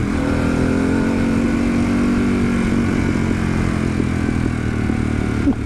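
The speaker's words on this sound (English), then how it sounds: "You'd swear some spotty teenager had put an aftermarket exhaust on this thing." A Harley-Davidson Pan America motorcycle rides along a gravel-edged mountain road, its engine and exhaust a loud, continuous close drone that holds steady throughout.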